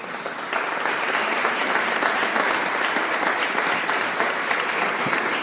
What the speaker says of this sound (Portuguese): Diga aleluia, glória a Deus, e aplauda ao Senhor